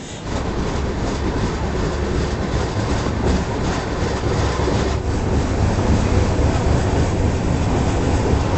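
The Andhra Pradesh Express pulls out of a station, a continuous loud rumble of rolling wheels and carriage noise heard from on board, steady and unbroken throughout.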